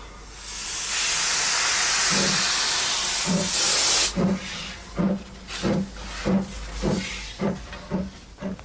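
A steam train on the Isle of Wight gives a loud, sustained hiss of escaping steam for about four seconds, then settles into a steady run of rhythmic chuffs, close and with no voices.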